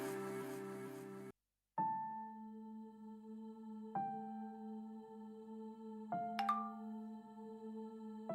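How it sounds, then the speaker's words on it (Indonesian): A phone notification plays as a sequence of clear, ringing chime tones, each struck note decaying slowly, repeating every couple of seconds after a short burst of music, close and fairly quiet. "Ada notif nih."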